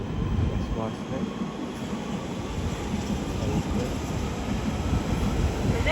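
A train rumbles steadily through Stratford station, a loud continuous low roar with faint wheel noise throughout and no speech over it.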